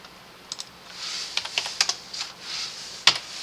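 Computer keyboard keys pressed during an After Effects editing session, a quick scatter of light, close clicks and taps with a few louder strokes, heard alone.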